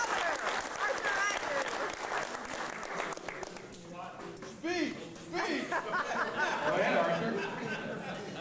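Audience applause mixed with crowd chatter and light laughter, the clapping fairly soft and somewhat distant while people talk and react throughout, swelling slightly toward the end.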